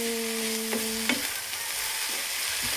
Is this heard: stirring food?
yes